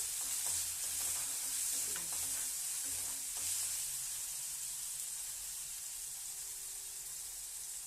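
Onion and spice gravy base sizzling and frying in a hot pan while being stirred, a steady broadband hiss with occasional scraping clinks, fairly quiet and continuous.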